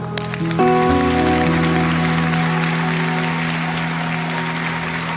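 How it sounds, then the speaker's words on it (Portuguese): Church congregation applauding during a sermon, broad sustained clapping from a large crowd under steady sustained organ or keyboard tones, loud and close throughout with no speech. "Um aplauso ao povo do celeiro."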